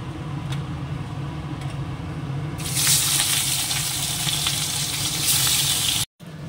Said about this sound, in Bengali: মাছটা ভেজে তুলে নিয়েছি